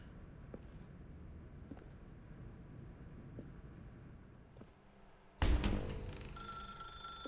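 A telephone rings in a quiet game room, a short sudden burst of ringing that cuts in loudly after several seconds of faint background hum and soft ticks.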